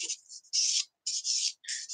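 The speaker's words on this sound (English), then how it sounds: "I've been using these sanding sticks for a while now" Short bursts of dry rubbing and rasping as a sanding stick works a plastic model tank part, several quick strokes with brief pauses between, close and fairly quiet.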